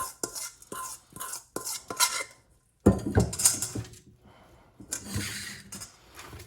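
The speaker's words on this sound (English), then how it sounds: "the next thing we wanna do is put that in the bottom of our cheesecake pan" Graham cracker crumb crust dropped and pressed into the bottom of a cheesecake pan for a vegan strawberry cheesecake: a run of dry scraping, tapping and rattling kitchen noises, close and irregular, with a short pause midway.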